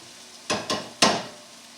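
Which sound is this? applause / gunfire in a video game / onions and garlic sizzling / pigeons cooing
onions and garlic sizzling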